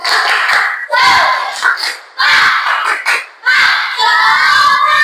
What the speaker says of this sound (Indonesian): Tepuk semangat satu.